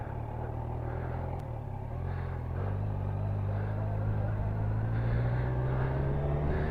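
A Kawasaki Z1000 SX motorcycle pulls away close by, its engine a steady, full drone that climbs gradually in pitch as it gathers speed, with constant low rumble throughout.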